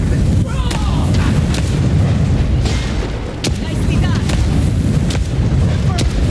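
Grenade blasts in the video game Avowed, a dense run of heavy booms and bursts over a steady battle din, several sharp impacts spread across the span, with a voice talking now and then.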